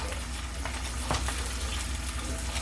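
An egg fries in oil in a pan, giving a steady, close sizzle with occasional small pops and crackles.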